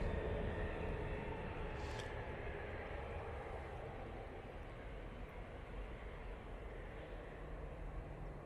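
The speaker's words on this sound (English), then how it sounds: "Coming in next, we've got the Ryanair from Dublin." A Ryanair airliner from Dublin approaches to land, a faint, distant, even engine rumble holding steady throughout without speech.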